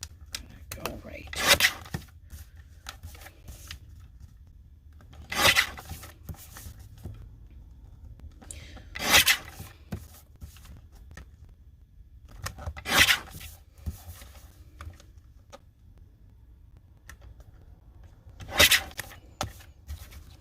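Christmas card paper trimmed along a small plastic guide, five rasping cutter strokes at regular intervals, each a short bright scrape, with a person talking quietly in between.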